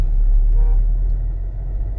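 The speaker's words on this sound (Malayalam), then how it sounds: "ഓരോ വണ്ടികളും നീങ്ങി തുടങ്ങിയിട്ടുണ്ട് കേട്ടോ." Vehicles move slowly in traffic on a road heading from Kerala into Karnataka, with a heavily loaded vehicle ahead. A steady, close, low engine rumble runs throughout with no voices.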